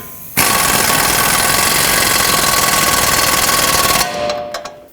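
A power tool tightens control arm bolts on a 2007-2009 Saturn Aura, one loud continuous buzzing rattle of about four seconds that cuts off sharply, followed by a few faint clicks.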